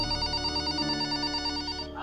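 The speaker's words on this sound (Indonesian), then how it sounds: "terdengar suara telepon yang berbunyi" A telephone rings continuously, a steady electronic bell-like trill that fills the full two seconds, close and fairly loud, with no one speaking.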